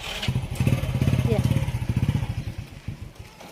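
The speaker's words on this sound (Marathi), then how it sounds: "बघा निघाली गाडी आता" A motorbike sets off with a close, rhythmic chugging exhaust that builds quickly, then thins and fades as it pulls away. Voices can be heard alongside it.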